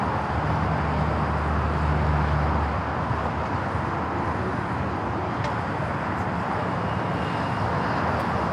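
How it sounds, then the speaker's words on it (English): A Boeing 777-300ER bound for Tokyo Narita roars steadily at LAX, a broad continuous jet rumble with low engine drone, loud and sustained throughout. "That's a flight back to Tokyo Narita on that 777-300ER."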